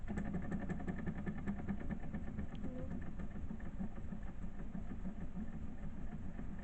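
A small model steam engine chugs and idles steadily with a faint rhythmic pulsing, fairly quiet and continuous throughout, no voices.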